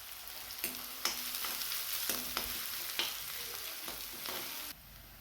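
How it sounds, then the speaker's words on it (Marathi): Onion and green chillies crackle and sizzle in a hot kadhai, a steady close frying hiss broken by a few soft clinks of stirring. "मिरची हिरवी मिरची घेतलेली आहे याला छान असं भाजू द्यायचे आपल्याला"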